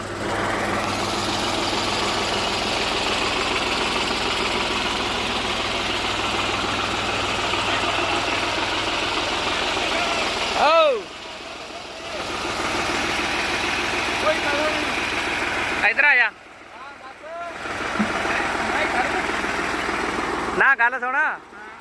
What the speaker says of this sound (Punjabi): ਆ ਚੱਲੀ ਜਾਂਦਾ ਟਰੈਕਟਰ